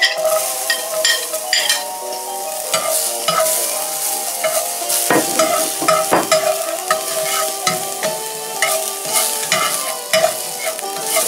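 Onion sizzling in a hot frying pan while a utensil stirs and scrapes it, a dense close crackle broken by irregular clinks and scraping strokes, with no talking.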